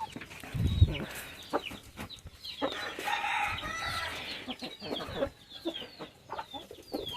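Medak-breed hens and roosters in a Telangana poultry yard cluck and call in a busy, overlapping chorus. A rooster crow stands out among the steady farmyard chatter, with no one speaking.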